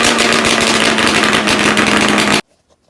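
An engine on a Formula III race car with its muffler removed revs loud and raw in a harsh sustained roar up close, then cuts off abruptly into near silence.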